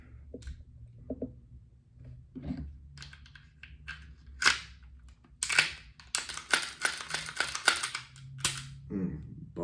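A Taurus G2C compact pistol is assembled by hand, giving a scattering of sharp metallic clicks and snaps, sparse at first and then quicker and denser toward the end, fairly close and distinct.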